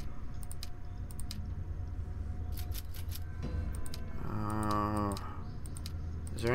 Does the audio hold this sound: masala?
no